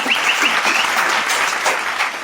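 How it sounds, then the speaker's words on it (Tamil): A group of people claps loudly and close by, a dense burst of applause that keeps going steadily and fades slightly toward the end, with a whoop or cheer heard near the start. "கைத்தட்டு."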